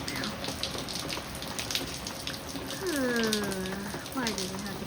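Heavy rain pouring outside on a Cape Cod day makes a steady, dense hiss throughout, with a brief voice-like tonal sound rising over it midway.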